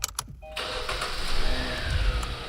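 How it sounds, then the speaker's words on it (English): A Kia car starting up with a charging cable fitted to the ignition cylinder: a few sharp clicks open it, then the engine catches and settles into a steady, moderately loud idle rumble with no talking. "You start the car."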